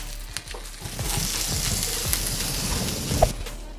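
Vegan pecan burger patties fry in a pan beside pushed-aside onions, giving a steady, close crackling sizzle with scattered pops throughout.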